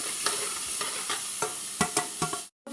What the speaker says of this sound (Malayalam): നമ്മൾ അരിഞ്ഞു വെച്ച ഉള്ളി തക്കാളി പച്ചമുളക് ഒക്കെ ചേർക്കാം അത് നന്നായിട്ട് ഫ്രൈ ചെയ്തെടുക്കാം ഒന്ന് വഴറ്റിയെടുക്കുക